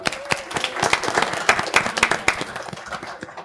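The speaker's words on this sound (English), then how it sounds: "Big round of applause for all of them." A small crowd at a city council meeting applauds students, with close, distinct individual claps forming a steady patter that fades toward the end.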